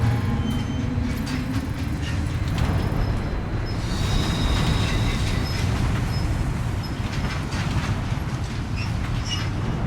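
Train in the video game Death Stranding 2 rolling along: a steady, loud rumble of wheels and carriages with faint rhythmic clatter, continuous throughout with no break.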